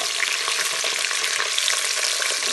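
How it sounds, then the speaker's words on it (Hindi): Chopped onions frying in hot oil for a cauliflower and mutton curry, a continuous bright sizzle and crackle close up, with no one speaking. "इसके अंदर हम प्याज डाल लेते हैं।"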